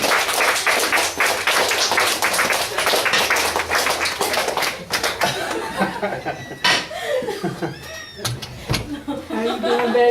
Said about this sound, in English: Help me give a warm, wonderful round of applause to our guest speaker, Sojourner Truth.